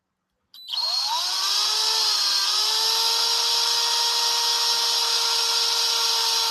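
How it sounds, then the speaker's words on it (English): Power drill boring a hole in a painted amp for a foot, a motor whine that starts abruptly, climbs in pitch and then holds steady and loud, close by. "I'm going to drill a hole in there for her foot."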